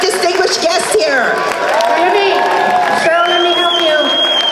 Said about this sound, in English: how about a round of applause for our elected officials, our leaders, and our distinguished guests here?